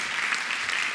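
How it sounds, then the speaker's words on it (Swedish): Audience applause at a live stage show as a volunteer is invited up, a short dense wash of clapping from a crowd, steady and fairly loud with no voices on top. "Du får en enorm applåd när du följer med mig på scenen."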